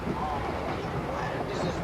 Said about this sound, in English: But you can't help the train wobbling like this.